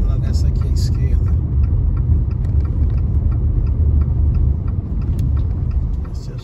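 A heavy truck labors slowly uphill on a city street in Natal, its low engine rumble steady and loud throughout, heard from a nearby vehicle with no talk over it.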